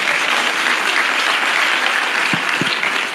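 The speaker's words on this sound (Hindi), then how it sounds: "एक बार तालियां बजा दो भैया।" An audience at a large Hindi poetry gathering claps loudly and continuously, a thick, even roar of applause with a couple of brief low thumps near the end.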